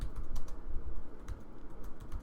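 Fingers type on a computer keyboard in a steady run of light, close clicks and taps, with no talking.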